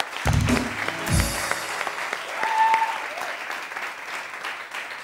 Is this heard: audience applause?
yes